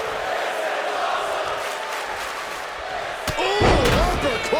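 A Falcon Arrow wrestling slam in WWE 2K25, a loud thudding impact landing amid a continuous roaring arena crowd that swells right after the hit.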